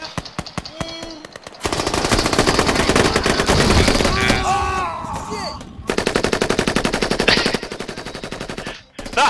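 Rapid automatic gunfire in the game Squad, aimed at pumpkin-headed attackers, with long sustained bursts broken by short pauses, loud and dense throughout.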